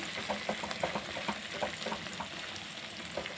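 Gongura chutney with dried red chillies cooking in a tempering of oil, giving a steady soft sizzle with small irregular crackles and pops, fairly quiet and close, with no talking over it.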